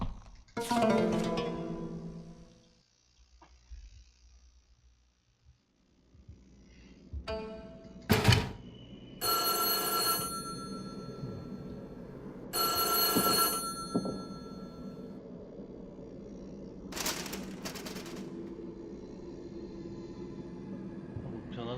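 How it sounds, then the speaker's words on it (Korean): A payphone rings in the horror game White Day, several bursts of rapid metallic bell ringing separated by pauses, with thumps and a low rumble between rings, moderately loud and fairly close. "공중전화가 울리나?"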